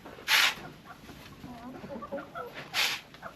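Hens in a messy barn give soft clucks and murmurs, with two louder sharp squawks near the start and end and quieter chatter between them.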